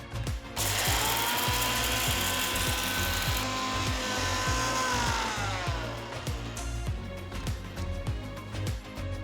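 A mixer grinder powders roasted spices with asafoetida for tamarind rice. Its motor whines loud and steady while rattling, ticking knocks from the jar contents repeat throughout. The grinding holds constant and no one speaks.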